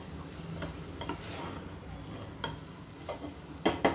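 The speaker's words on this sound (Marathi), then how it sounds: "हे सर्व 1 मिनिटभर आपण परतून घेऊयात।" Rice with turmeric and green peas is stirred and sautéed in a pan, a soft steady sizzle broken by scraping spoon strokes and a few sharp clinks toward the end.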